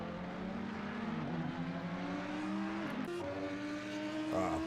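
Race car engines in Assetto Corsa Competizione at Zolder drone and whine at high revs, pitch rising and falling through gear changes, a steady mid-level rush of several cars with no talking.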